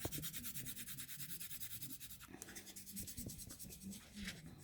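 Soft, continuous scratchy strokes of a very soft dark pencil shading a tree gradation on paper, close up and steady, with a slight change in texture partway through.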